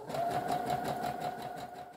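A sewing machine runs continuously at close range stitching zigzag stitches, a steady humming motor with a fast rhythmic needle pulse throughout.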